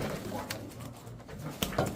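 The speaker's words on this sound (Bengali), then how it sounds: "ব্লু বার মুন্ডিয়ান একটা নর কবুতর দেখেন" A large male Blue Bar Mundian pigeon moves about nearby, giving faint soft coos and a few light taps and wing or foot sounds over a quiet background.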